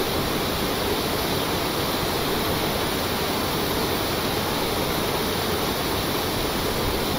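Steady, loud ocean water in Stormworks, a continuous wash of waves and spray with no breaks and no speech over it.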